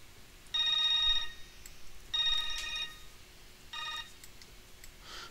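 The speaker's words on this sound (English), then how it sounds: "And my phone's going off like crazy." A phone rings in a Minecraft-style survival game session, three bursts of bright electronic ringing with short gaps between them, fairly loud and close with no talk over it.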